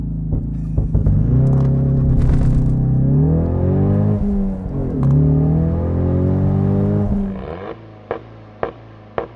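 A 2023 Ford Mustang EcoBoost High Performance convertible revs hard on launch control and accelerates with a loud, rising growl through several gear changes, then backs off into crackles and pops.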